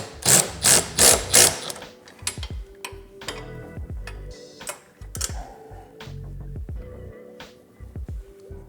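Series of quick mechanical clicks and rattles from a ratchet tightening bolts on an engine guard for a Harley-Davidson Softail, with a burst of louder strokes at the start followed by intermittent, closer clicks.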